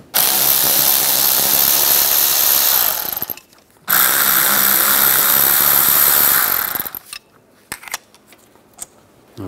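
Rear brake caliper bolts come off a 2007-2010 Mini Cooper under a power socket tool, two loud sustained bursts of whirring rattle, each lasting about three seconds, followed by faint metallic clinks.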